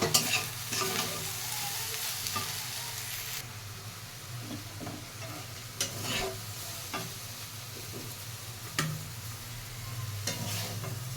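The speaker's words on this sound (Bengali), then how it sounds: "দেখো আমার আলু বরবটি ভাজা হয়ে গেছে" Potatoes and long beans fry with turmeric and salt in a pan, a soft, steady sizzle broken by repeated close scrapes and clacks of a utensil stirring, with no voices.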